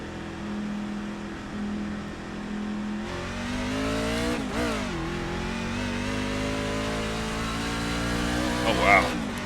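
A NASCAR truck in iRacing at Kentucky Speedway idles low, then its engine roars and revs up through rising gear pulls, loud and close, with a brief dip and more acceleration and a voice talking briefly over it.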